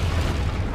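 A Bombarda spell explosion in Hogwarts Legacy gameplay on PS5: a single loud, dense, rumbling boom that fills the whole brief moment with no break.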